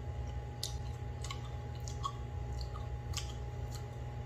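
Someone chews unripe watermelon close to the microphone, giving several soft, wet crunches and squishes at irregular intervals over a faint steady hum, with no talking.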